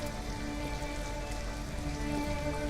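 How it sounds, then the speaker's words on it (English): Steady rain falls on a city street in the video game Detroit: Become Human, a soft, even, continuous hiss with no voices. "At least we'd be out of the rain."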